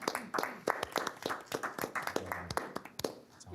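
A small group claps at a district board of health meeting, giving a fairly quick, uneven run of close hand claps with no talking.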